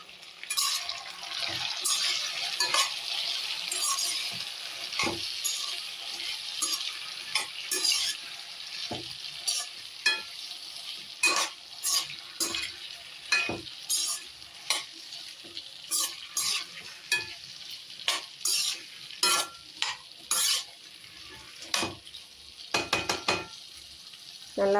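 Potatoes and beans sautéing in a pan give a constant close sizzle under frequent quick scraping and tapping strokes of a spoon, growing busier and more rapid toward the end.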